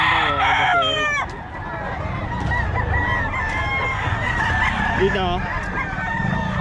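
Roosters crow repeatedly and hens cluck at a busy chicken market in Bocaue, the birds loud and close over a constant crowd murmur, with people talking throughout.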